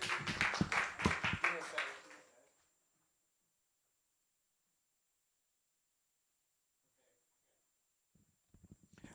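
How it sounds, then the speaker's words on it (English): A small open mic poetry and costume contest crowd gives a brief burst of clapping that dies away within a couple of seconds, followed by near silence and faint sounds at the end. "So, round of applause."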